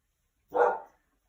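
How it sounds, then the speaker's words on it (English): A single short dog bark, moderately close, in an otherwise quiet room. "Can you hear my dog barking?"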